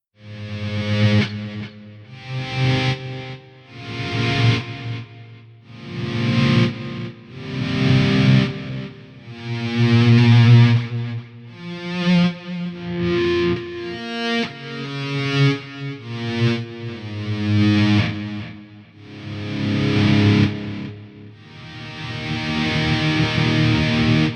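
Electric guitar notes fade in smoothly one after another without a pick attack, a volume swell effect from an AX8 processor, each swelling up and tailing off with a soft echoing shimmer.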